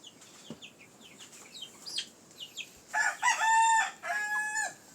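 A rooster crows in a farmyard with chickens, a long, loud, close call rising and holding for about two seconds late in the clip, preceded by scattered bird chirps and clucks.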